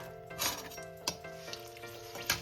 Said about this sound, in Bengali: এবার ওই তেলের মধ্যে আমি দিয়ে দেবো চারটে শুকনো লঙ্কা